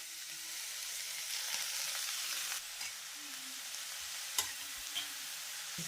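Amaranth leaves and onions being stirred in a hot pan for a peanut fry, with a steady sizzle and a few soft scrapes and knocks of the spoon, fairly quiet and close, with no voices.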